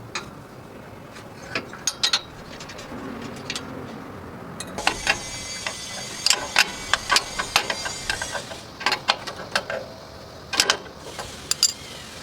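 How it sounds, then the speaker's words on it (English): An 11/16 wrench ratchets on the flange bolts of an electric trailer brake, giving scattered clicks and clacks in irregular bursts, some close and sharp, over quiet background. "To start unbolting these, we're going to be using an 11/16 wrench"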